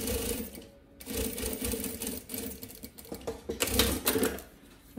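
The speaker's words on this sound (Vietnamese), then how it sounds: "các bạn cũng sẽ tiến hành may cho mình góc bên này" A sewing machine stitches the corner of a bag sewn from fabric scraps, running in a steady, rapid mechanical rattle with short pauses and changes in speed, close and clear.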